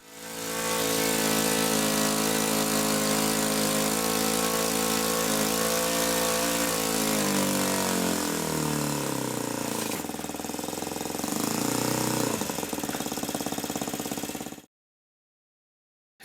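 A Laser 80 model four-stroke engine of about 13.5cc runs steadily at a loud, constant pitch, then its speed shifts and wavers before it cuts out abruptly into silence.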